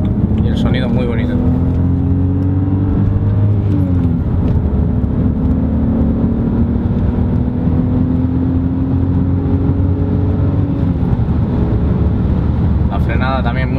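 A BMW E92 3 Series, 325i or 320i, drives on a test drive with a steady engine drone and rising, shifting tones throughout, loud and close, with a voice speaking over it.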